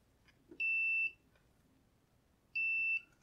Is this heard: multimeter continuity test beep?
yes